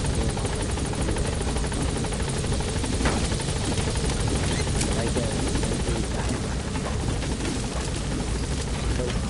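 Helicopter in Metal Gear Solid V: The Phantom Pain, a loud, steady whirring rotor drone that fills the whole stretch without letting up, with people likely talking underneath it.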